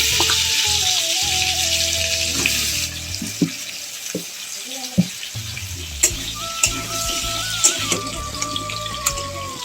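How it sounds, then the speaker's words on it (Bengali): Meat seasoned with turmeric powder sizzles and fries in a pan, a loud steady hiss close up, broken by occasional stirring knocks and scrapes, with no talking. "তো গাইস দেখেন এগুলো কি সুন্দর করে আমি লাল লাল করে ভেজে নিচ্ছি।"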